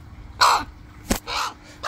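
A young pet raven, larger than a crow, gives three harsh open-mouthed caws, loud and close, with short gaps between calls.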